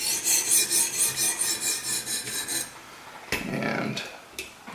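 A CTS-XHP steel knife blade grinds rhythmically across a sharpening stone, about a dozen regular rasping strokes front to back, close and clear, then a pause and a few softer scrapes.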